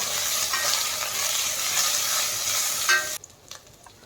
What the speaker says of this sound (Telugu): ఇప్పుడు అల్లం వెల్లుల్లి పేస్ట్ వేసుకోవాలి పసుపు వేసుకోవాలి కాసేపు వేగిపోయినాక పసుపు వేసుకోవాలి